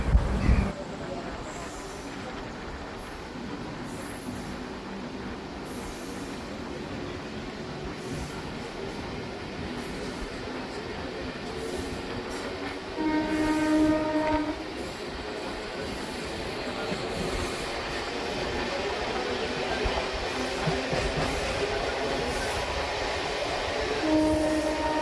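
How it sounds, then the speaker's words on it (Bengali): A passenger train pulls out of Bakrabad station and gathers speed, heard from on board as a continuous rumble with rhythmic rail clatter, faint wheel squeal and a quiet voice in the background. "দেখতে দেখতে আমাদের ট্রেন 1 মিনিট দাঁড়িয়ে বাকরাবাদ স্টেশন ছেড়ে দিল"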